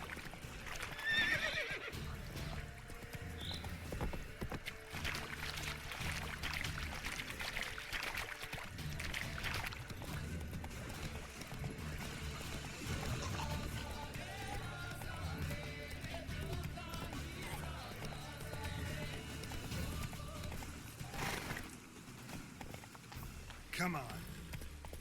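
In The Witcher 3, the horse Roach gallops with steady clip-clop hoofbeats and gives a whinny, all under a continuous game soundscape while someone talks over the top.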